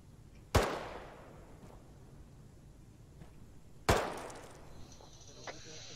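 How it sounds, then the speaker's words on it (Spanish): Two loud, sharp gunshots in the military shooter game ArmA 3, about three seconds apart. Each has a long decaying echo over quiet background noise. "Estoy disparando, mejor."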